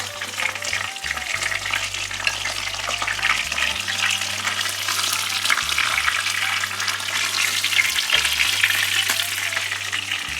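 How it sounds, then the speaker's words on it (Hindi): Pieces of fish frying in hot oil for a korma curry, giving a dense, continuous sizzle and crackle close to the pan, with occasional stirring bumps and no talking. "बस इस तरह से फ्राई करके आपने ये पीसेस सारे निकाल लेने हैं।"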